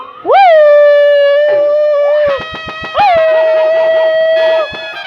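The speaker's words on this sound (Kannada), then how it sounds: "ಇಲ್ಲಿ ಹನ್ನೆರಡು ಜಾತಿ ನಾಯಿ ಇದಾವ" Two long, loud dog howls rise and hold steady, separated by a burst of sharp yips and barks; close and clear, with no talking.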